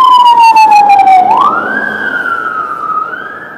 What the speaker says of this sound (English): Ambulance, not a truck.